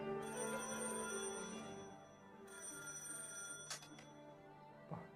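A telephone rings in an anime episode, with bright electronic ring bursts sitting low in the mix over steady background sound and music.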